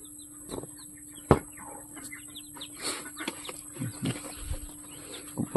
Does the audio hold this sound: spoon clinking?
no